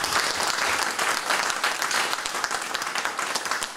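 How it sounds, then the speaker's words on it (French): An audience applauds a poetry reader with sustained, close, dense clapping from many hands. It stays loud and even throughout with no speech. "On peut l'applaudir."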